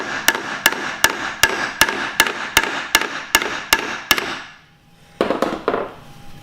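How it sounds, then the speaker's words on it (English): A hammer strikes a hole puncher set on a metal backing plate in a steady series of about a dozen sharp, ringing blows, then a short pause before a quicker burst of hits, close and loud with no talking. "You want to get a hammer and hit it until it makes the hole."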